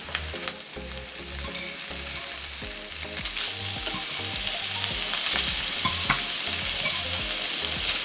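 Bacon and grey prawns fry together in a pan for a linguine dish, giving a loud, continuous close-up sizzle over a low steady hum, with a few faint clinks.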